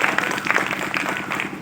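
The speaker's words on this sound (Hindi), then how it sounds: "एक जोरदार ताली होना चाहिए।" Applause and clapping from an audience at an Indian motivational seminar, cheering a participant who reached a 20% level, a dense steady patter of many hands lasting throughout.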